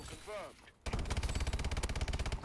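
KF5 submachine gun firing in Call of Duty Advanced Warfare, a loud rapid burst of fast, evenly spaced shots that starts abruptly and keeps going to the end, right after a brief spoken stretch.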